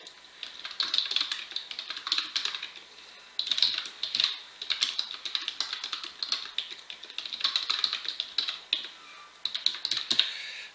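Computer keyboard typing while a form's name and address fields are filled in, with quick irregular clicks in bursts and brief pauses, close and fairly clear, no talking.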